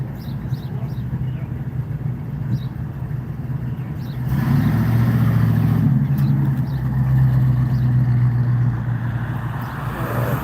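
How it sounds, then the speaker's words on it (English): A 1957 Chevy rat rod truck at a boardwalk hot rod cruise revs its engine, a loud rumbling swell rising over steady idling and crowd noise, with faint voices around. "Chevy rat rod"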